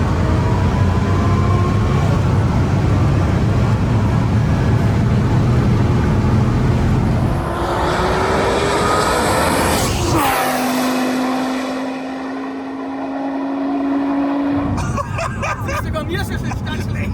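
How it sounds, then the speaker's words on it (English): An 1800 HP twin-turbo Lamborghini Huracan Performante running E85 accelerates past on the German Autobahn, a loud sustained engine roar building and then sweeping by, heard from a bridge over heavy wind and traffic noise. "Oh, this car is insane. You hear it so far back already, accelerating."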